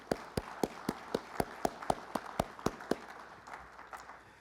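Hands clap for a councilman at a Ward 5 community forum, a steady run of about a dozen evenly spaced claps that are fairly faint and thin out toward the end, with no talking over them.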